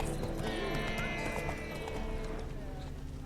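The horse Roach gallops in The Witcher 3 video game, a quick, rhythmic clip-clop of hooves close by, with voices over it.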